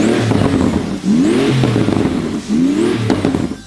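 A 2018 Porsche 911 GT2 RS with a 3.8-liter twin-turbo flat-six revs loudly in the Forza racing game, climbing through gears in repeated rising engine sweeps with brief dips between shifts, close and continuous.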